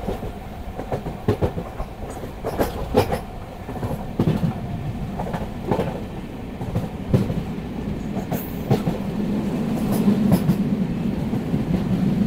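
The Kanchankanya Express, Alipurduar to Sealdah, rolls along with rhythmic clickety-clack of wheels over rail joints and a rumbling carriage drone heard from on board, growing slightly louder near the end.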